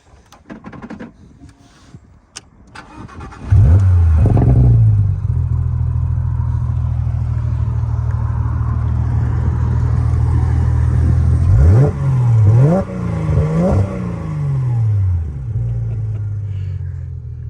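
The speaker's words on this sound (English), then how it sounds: "The car has a Dundon full exhaust, headers to the Dundon catalytic converters, titanium exhaust tips." Porsche 991.2 GT3 with a manual gearbox and a Dundon full titanium exhaust with headers and catalytic converters. A few faint clicks, then the engine barks to life and holds a loud, steady note close by, followed by several sharp rev blips.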